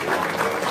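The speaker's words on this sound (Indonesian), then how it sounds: "Tepuk tangan dong." A brief burst of audience applause, steady and moderately loud clapping from a gathered crowd lasting under a second.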